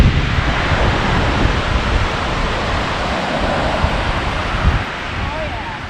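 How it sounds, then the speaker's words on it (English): Rushing water from a waterfall in a canyon in East Iceland, a steady broadband roar with some wind buffeting, continuous and fairly loud throughout. "Waterfall number 2."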